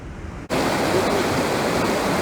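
Water rushing at a quarry in Birdsboro Preserve, heard as a loud, steady broadband roar that cuts in abruptly and stays constant, with no voices.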